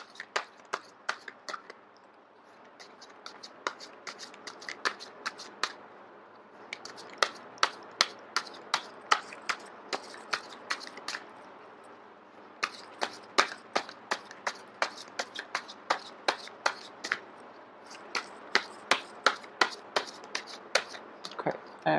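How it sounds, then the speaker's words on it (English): Tarot cards shuffled by hand up close, a long series of crisp card snaps and riffles in quick bursts with brief pauses between runs, no one talking. "I am going to shuffle until the first card drops out"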